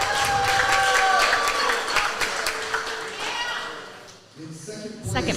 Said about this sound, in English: I hope you can hear all the clapping and cheering